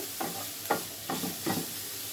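Onion and garlic frying in oil with green chillies and a little salt for a kalojira bharta, with four soft scraping stirs over a gentle continuous sizzle, close by and without talk.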